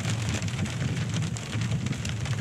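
Hail pelts a truck on a Colorado mountain trip in the Lincoln Group of 14ers, a dense, steady rattling wash with a low rumble underneath that persists unbroken for the whole stretch.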